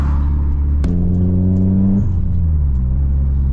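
Peugeot 406 taxi with a 2.0 turbo engine, heard close as a loud, deep rumble with a sharp click, then a rising rev that steadies and settles back to idle, no talk over it.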